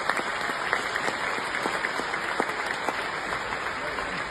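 Steady applause from a contest audience as contestants return to their seats, a dense, even patter of many hands with scattered sharper claps, moderately distant and continuing without pause.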